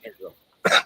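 Two soft breathy sounds lead into a single harsh, loud cough burst after smoking from a bong, close to the listener, with brief voice-like noise before it.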